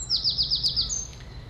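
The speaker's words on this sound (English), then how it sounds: "The birds say good morning." A small bird chirps in a quick run of six or seven bright repeated notes, then one thinner call, close and clear over a low steady room hum in the morning.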